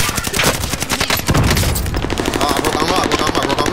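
Rapid automatic gunfire in a first-person shooter game rattles in loud, dense bursts, with a heavy boom in the middle and steady fast shots continuing afterward.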